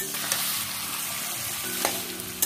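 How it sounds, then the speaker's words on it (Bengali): Pigeon meat frying in oil, a dense continuous sizzle close by with a few light scraping knocks of stirring, no talk. "তো পুরো মাংসটাকে আমি দিয়ে দিলাম তেলে।"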